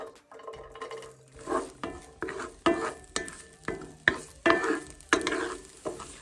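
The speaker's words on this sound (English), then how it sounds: "we're gonna start by sauteing some chopped onions" Chopped onions are sautéed in a cast iron pan with a rhythmic series of stirring scrapes, roughly two per second, each bringing a burst of sizzle over a quieter background hiss.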